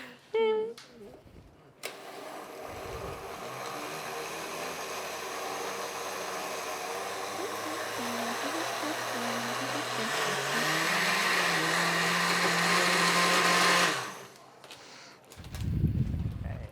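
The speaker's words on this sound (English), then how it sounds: "So if you have a high-speed blender, that will work even better than this." A budget blender runs steadily for about twelve seconds, a loud close whirring drone that shifts slightly in pitch as it blends, with brief sounds before and after.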